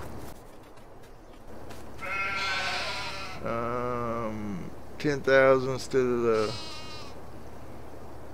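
Sheep in the Farming Simulator video game bleat several times in drawn-out, wavering calls close by, including a quick cluster near the middle, with someone speaking briefly over a steady low hum.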